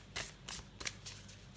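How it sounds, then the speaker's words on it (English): A deck of illustrated herbal oracle cards is shuffled by hand in four or five quick, crisp riffling bursts, close and fairly quiet, with no talking. "So let's try shuffling these now that I've slightly separated them."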